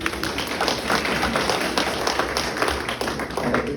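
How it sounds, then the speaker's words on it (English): Audience clapping at a community event, a dense steady patter of many hands that carries at an even level through the whole stretch with no voices over it. "Everybody clap for Donna."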